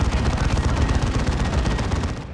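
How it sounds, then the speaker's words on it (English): An assault cannon in the Dawn of War 2 video game fires a continuous rapid stream of loud, dense shots, a rattling roar that sustains for the whole stretch with no talk. "There's that assault cannon scaring off the rangers."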